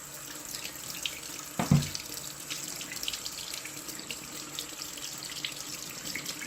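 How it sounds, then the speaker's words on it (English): Water from a tap runs into a sink while magnetite sludge is washed off the magnet of an Adey Magna Clean Professional central heating filter, a steady close hiss with one brief splashing clunk early on. "I turn the tap on, I slide this off here, and then I wash all this off"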